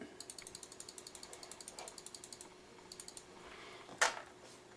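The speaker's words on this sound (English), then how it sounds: "take a standard 1/4 inch nut and you can screw it onto there, tighten it down as much as you want" A standard quarter-inch nut is screwed onto a tripod head's threaded screw, making a quick run of quiet, evenly spaced metallic clicks that pause briefly, resume, and end with one louder click.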